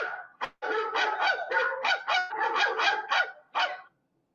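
Dogs bark in a rapid run of about ten loud, close barks, one after another with brief gaps, ending in a final bark and silence.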